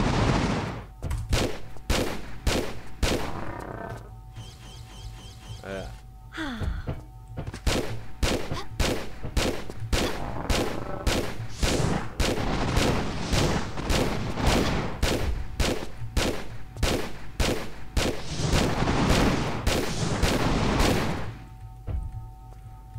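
Gunfire in Tomb Raider IV: The Last Revelation, in the Temple of Horus level: loud, rapid shots repeat in a steady stream, with a short lull partway through before the firing picks up again and runs to the end.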